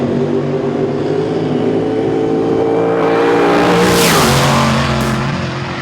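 A nitro-fuelled 1970s drag race car engine roars loud and close, holding a steady throaty idle before a sharp rev surges and falls away, with no voices.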